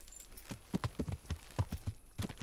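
Horse hooves clip-clopping at a steady riding gait in the medieval game Kingdom Come: Deliverance, a close, even series of hoofbeats heard alone without talk.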